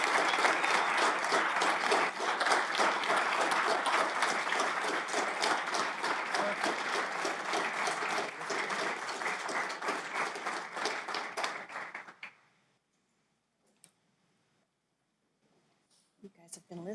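A crowd at a county commissioners' meeting applauds a retiring detective with roughly twelve seconds of loud, sustained clapping that cuts off abruptly into near silence, followed by a few faint sounds.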